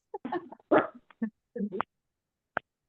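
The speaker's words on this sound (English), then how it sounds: "I got a husband that's making the dog bark." A dog's short, sharp barks and whimpery yelps, several irregular bursts close by in an indoor meeting room, ending with one brief isolated yip.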